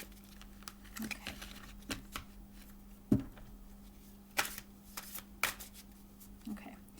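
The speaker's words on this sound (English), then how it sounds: "Just going to do a quick shuffle." Fairy oracle cards being shuffled quickly up close, giving a few short crisp riffles and soft taps over a steady low hum.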